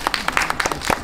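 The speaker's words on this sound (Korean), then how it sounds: "우리 다 같이 박수 한번." An audience at a Korean film talk event claps together in a short, dense burst of applause, steady and close throughout.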